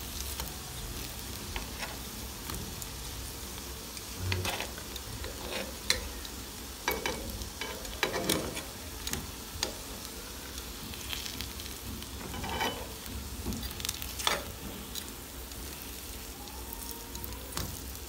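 Potato chapli kabab sizzles quietly in a pan while being turned over, with soft crackling frying and occasional scraping and tapping from the turning, fairly close but low in level.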